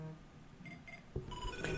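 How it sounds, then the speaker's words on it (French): A phone's ringtone, the electronic ring from the 24 TV series, sounds faintly as short bright tones that repeat and grow busier toward the end, heard alone without talk. "C'est la sonnerie de 24 heures chrono, ça."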